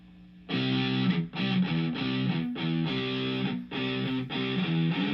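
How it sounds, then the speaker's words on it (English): Electric guitar played through a Fender Frontman 212R amp on its distortion channel, dirty and saturated, with a series of sustained chords and short gaps between them, loud and upfront with no talk. "then with the foot switch, I switched over to the dirty channel for the first level of distortion."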